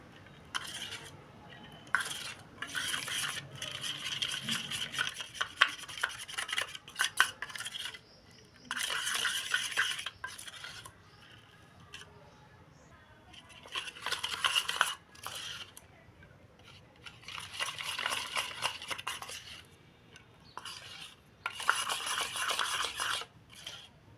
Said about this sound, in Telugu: కొద్ది కొద్ది వాటర్ వేస్తూ బాగా మిక్స్ అనేది చేసుకోవాలి సర్ఫ్ మొత్తం మిక్స్ అయ్యే వరకు మొత్తం మిక్స్ చేసేయాలండి